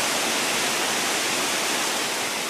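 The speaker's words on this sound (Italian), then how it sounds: "una caduta d'acqua ad oltre 1000 metri" Water plunging from a towering falls of over 1000 metres, a steady, dense broadband roar that holds unchanged throughout with no voices.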